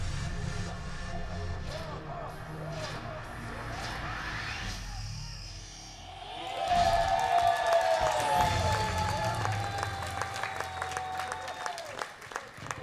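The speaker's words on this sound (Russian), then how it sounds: "И эти аплодисменты громкие." Loud studio audience applause on a televised talent show, steady clapping that swells after a brief lull and continues with bright, dense hand claps.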